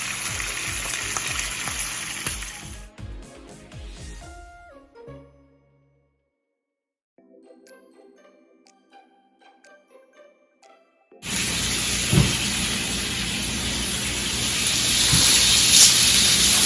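Pork chops frying in a pan give a loud, steady sizzle for the first few seconds and again from about eleven seconds on, broken by a quiet stretch with faint clinks and taps in between.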